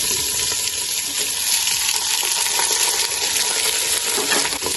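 Cashews and raisins fry in hot oil with a constant bright sizzle, stirred in a pan with faint scraping and small clinks, loud and close with no talking.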